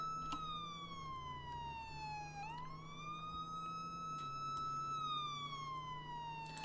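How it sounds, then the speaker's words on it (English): Police siren in a driving video game, a steady wail that sweeps down and back up over a low engine drone, fairly faint and continuous. "I hear Ryan's siren and I thought it was someone behind me"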